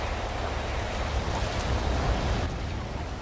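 Steady rain hisses down in a GTA roleplay game world on the FiveM server, a dense, even wash of falling water that holds constant throughout with no voices over it.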